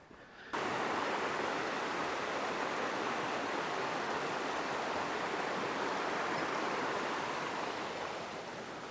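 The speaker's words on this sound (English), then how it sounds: "Definitely hear a lot more water now." Creek water rushes nearby in a loud, steady hiss that begins abruptly and continues without pause.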